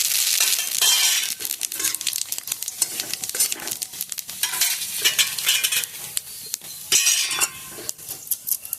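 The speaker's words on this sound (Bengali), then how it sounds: "আমি একটা শুকনো লঙ্কা ফোড়নে দিয়ে দেব।" Dried red chili and radhuni seeds fry in hot oil for a Bengali fish-head shukto, a loud continuous crackling sizzle broken by stirring scrapes and occasional clinks, close up throughout.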